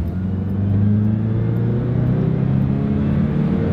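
A Chevy Colorado pickup's four-cylinder engine revs as the truck downshifts on a wooded trail, giving a loud, close, steady droning growl with rising harmonic tones as it pulls.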